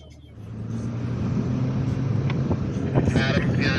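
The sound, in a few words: Toyota A90 Supra car engines warming up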